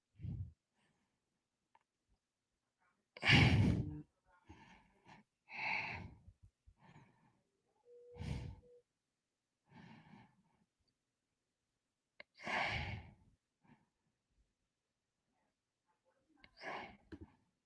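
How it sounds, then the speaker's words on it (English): Heavy, shaky breathing sounds close to a microphone, irregular bursts of breath and rustle separated by quiet gaps across the span. "It's me breathing heavy."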